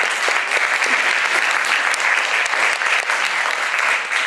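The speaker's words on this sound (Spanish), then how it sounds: "Le damos un fuerte aplauso," An audience applauds a doctor after a talk, with dense, even clapping that stays loud and continuous the whole time and no voices over it.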